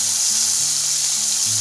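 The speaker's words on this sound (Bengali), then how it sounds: "এইভাবে ভেজে দেবেন পেঁয়াজটা" Thinly sliced onions sizzling in hot oil in a pan, a steady bright hiss with a faint low hum underneath, continuous and close.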